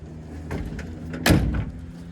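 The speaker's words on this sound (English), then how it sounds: "listen to how that door closed. Rock solid." A single solid thud of an all-steel Ford Crestline car door shutting, preceded by faint rustling and handling sounds, fairly close.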